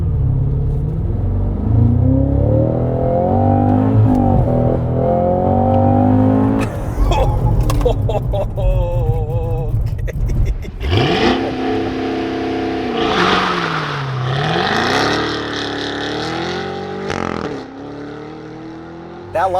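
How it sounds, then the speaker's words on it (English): A 2022 Cadillac CT5-V Blackwing's supercharged engine revs up and launches hard with launch control, bogging briefly, roaring loud and close as it climbs through the gears, with sharp pitch swings as it shifts. "That launch kind of sucked in PTM dry"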